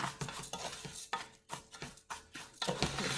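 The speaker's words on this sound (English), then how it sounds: "you just want to continuously stir" Spanish rice being stirred in a pan, a utensil scraping and clinking against the metal in quick irregular strokes with a faint sizzle underneath, close and fairly loud.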